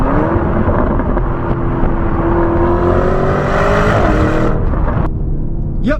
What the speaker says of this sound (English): you get a beautiful sounding pop from the exhaust when you upshift at high RPMs as well